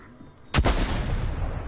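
A single sharp sniper rifle shot cracks loudly in a shooter video game, followed by a booming tail and rumbling echo that fades slowly, heard alone without talk.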